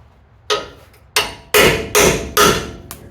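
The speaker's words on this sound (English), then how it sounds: "now I'm just going to take a chisel and whack it off there" A hammer strikes a chisel to knock a part off an old Bronco's winch bumper: five sharp metallic blows at an uneven pace, then a lighter tap, close and loud.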